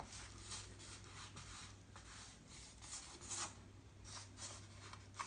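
A drawing tool scratches and rubs across paper in a study sketch of a Matisse subject, a soft, close, continuous scraping in repeated strokes with a faint low hum beneath and no talking.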